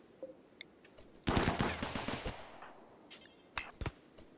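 Automated turrets opening fire in a video game: a sudden loud burst of rapid gunfire lasting about a second, followed by a few scattered shorter volleys, close and with no talking.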